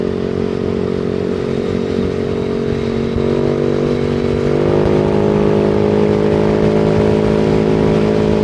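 A vehicle accelerates on the throttle on a road near Angeles City, Philippines, its engine droning loud and steady, pitch climbing as it speeds up, with constant road and wind noise and no talk.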